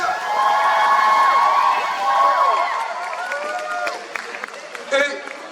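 Audience at the Paris Fan Festival 2024 claps and cheers in a thick, loud wave that thins out toward the end, where a voice breaks through briefly.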